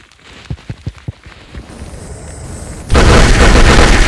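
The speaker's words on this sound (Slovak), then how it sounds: "začneme už s explóziou" Firecracker going off: a few sharp pops, then a loud, close blast that turns into a sustained roar of crackling and hiss to the end.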